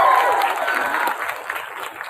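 Applause from a church congregation during a sermon in Indonesian, a dense, fairly loud round of clapping that starts strongest, then continues a little lighter and uneven with individual claps standing out near the end.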